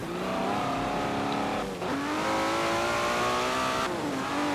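Car engine in Forza Horizon 4 revving steadily and loudly through rising and falling gear changes, with a brief dip near the middle, heard alone without talk.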